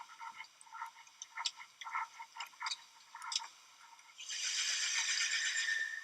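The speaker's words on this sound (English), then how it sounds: "And they were very excited to hear their first fish." Fish calling underwater, picked up by student-made hydrophones in the Chicago River: scattered faint clicks and short grunting pulses, then a steady hissing rush toward the end.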